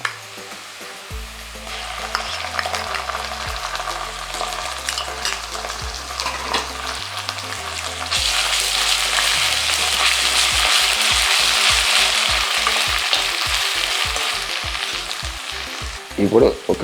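Dhaba-style okra (ladies finger) masala frying in a pan, a loud, steady sizzle under rhythmic stirring and scraping, with background music playing and the sizzle swelling louder halfway through.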